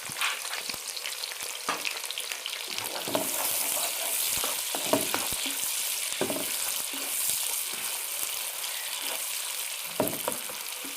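Two large chopped onions fry in hot oil with a constant hiss and crackle, broken by sharp spatters and scraping stirs throughout, close and moderately quiet, with no talking.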